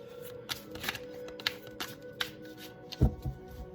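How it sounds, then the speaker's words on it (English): A deck of cards being riffle-shuffled in several quick, crisp bursts, ending with a soft thump as the cards are squared. "Two more shuffles and we'll pull the 10 cards,"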